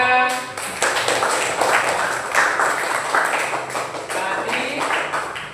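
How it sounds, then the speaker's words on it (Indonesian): Classroom applause from a group of students, a dense, steady patter of many hands clapping close by that continues throughout without talk. "Tepuk tangan."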